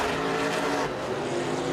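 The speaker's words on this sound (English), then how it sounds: "I'm just listening to that Mustang as it screams past the camera point in turn 2" A Ford Mustang stock car screams past at Winton Raceway, a loud high-revving engine howl sweeping by in a brief burst with no talk.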